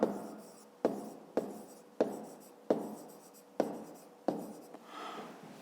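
Pen strokes scratch across a notebook page during a fifth-grade maths exercise, in a series of short, close bursts that each start sharply and trail off, with brief pauses between them and no voices.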